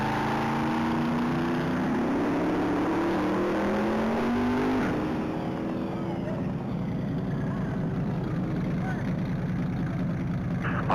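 A black 2018 Chevrolet Camaro ZL1 races on a top-speed mile course, its engine roaring loudly and climbing steadily in pitch through the gears before a shift, with an announcer speaking over it.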